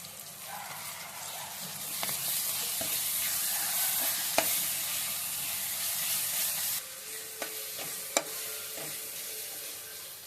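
Onion and ginger garlic paste sizzle steadily in a hot pan for an egg curry, a continuous close hiss with occasional sharp clicks of stirring and no talking.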